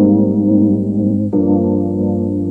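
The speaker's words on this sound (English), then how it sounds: "this plugin emulates the warmth, character, and noise of old tape cassettes" Muffled, warm-toned music with a dull, band-limited lo-fi sound from a plugin emulating old tape cassettes, holding sustained notes before shifting to a new chord partway through.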